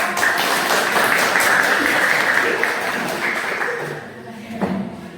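Applause from a classroom group for a student, Dalika, during a school counseling lesson: sustained clapping for about four seconds, then fading, with a brief thump near the end.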